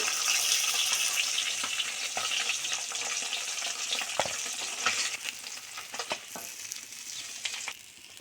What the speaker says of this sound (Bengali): মাছ ভাজা হয়ে গেছে প্রায় এবার ভাজা মাছগুলো তুলে নেব